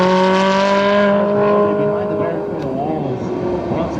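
A toy race car gives off an electronic engine sound made of steady buzzing tones that waver and fade into a rougher, rising whine toward the end.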